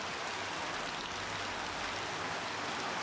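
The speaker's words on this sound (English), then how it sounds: "During the first few hours, it pours with rain." Monsoon rain pouring down over India, a dense, steady wash of heavy downpour that is constant and enveloping throughout, with no voices.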